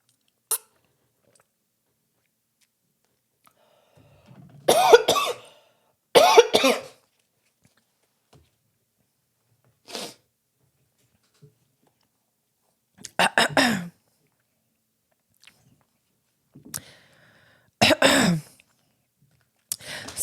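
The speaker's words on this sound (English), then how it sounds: "I took a sip of water and just started going into cough" A person coughs in separate bursts after sipping water: several harsh, close coughing fits spaced by pauses of silence, some single and some in quick doubles.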